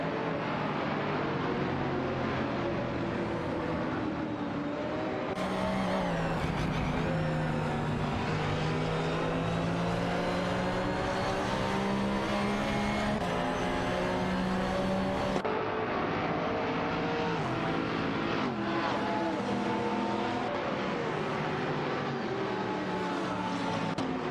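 Racing-game GT cars, a Marcos GT2 and an Aston Martin DBR9, drone continuously with loud, layered engine tones that rise and fall in pitch as they accelerate and shift.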